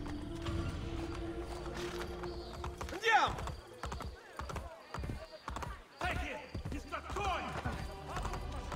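Horse hooves clip-clopping in the Assassin's Creed Brotherhood video game on PC, uneven hoof hits and mechanical creaks mixed with game sounds and talking.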